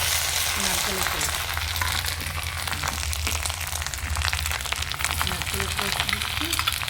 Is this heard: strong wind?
no